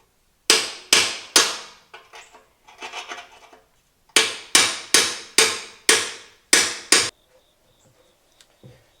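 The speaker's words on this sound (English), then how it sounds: "hitting this bolt at an angle" A hammer drives a chisel against a bolt on a space heater: a few sharp metallic strikes, a brief scraping pause, then a fast run of about seven loud, ringing blows.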